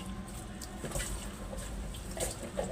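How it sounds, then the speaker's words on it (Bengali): Water sloshes and splashes as shing catfish are stirred and washed by hand in a container, a soft, continuous churning with small irregular splashes close by and no talk. "দেখেন আমরা এই যে এখন শিং মাছগুলো নাড়াচাড়া করতেছি"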